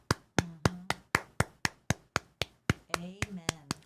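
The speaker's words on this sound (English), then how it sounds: "I'm giving you applause." One person clapping hands as applause, about a dozen sharp, evenly spaced claps close by, with a voice speaking between the final claps.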